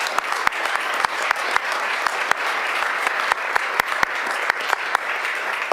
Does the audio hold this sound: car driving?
no